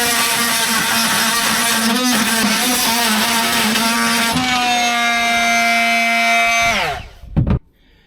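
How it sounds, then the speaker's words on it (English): A multi-tool with a metal blade cuts through stainless steel on a Drascombe Lugger boat, giving a loud, sustained high-pitched buzzing whine that shifts pitch midway, then winds down and stops with a couple of brief clunks. "we may as well chop this off as well. This is stainless steel, so I'm hoping this is a metal multi-blade."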